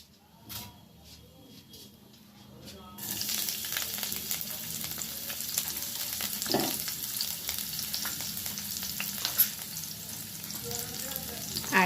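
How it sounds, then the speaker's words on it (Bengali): Chopped garlic drops into hot oil in a wok and sizzles loudly and continuously, with occasional stirring scrapes over the steady frying. "আমি এবার কড়াইতে রসুন কুচি দিয়ে দিচ্ছি।"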